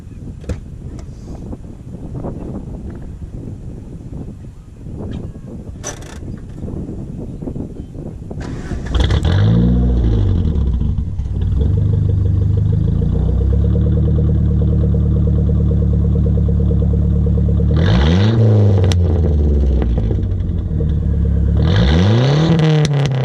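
A 1989 Shelby CSX is hot-started: after some wind-buffeted handling noise, the engine cranks and catches with a loud rev, settles into a steady close idle, then revs up twice more.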